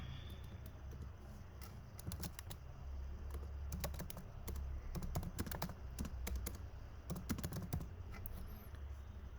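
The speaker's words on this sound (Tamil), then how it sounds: "இப்போ பார்த்தீங்கன்னா என்னால் டைப் பண்ண முடியுது" Rapid clicky keystrokes on a computer keyboard while entering text in the vim editor in a Linux shell, in irregular close bursts over a faint steady hum.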